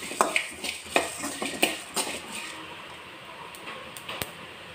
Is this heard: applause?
no